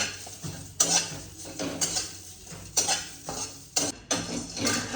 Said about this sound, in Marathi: तर इकडे मी फुटाणे घेतले भाजायला